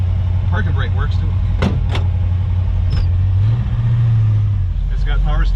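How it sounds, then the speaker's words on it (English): A 1968 Plymouth Road Runner with a noisy transmission drives along, its engine a steady, close, low drone that rises slightly in pitch midway, with a few sharp clicks and knocks on top and a voice speaking briefly. "Transmission's a little bit noisy."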